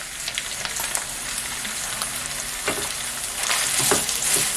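Thinly sliced large onions sizzle steadily in hot oil in a home kitchen pan, a close, continuous crackle with occasional spatters and stirring scrapes, growing slightly louder toward the end, with no talking.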